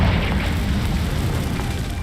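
A Confringo spell explosion in Hogwarts Legacy gives a deep, loud rumbling boom that rolls on steadily for about two seconds, heard on its own.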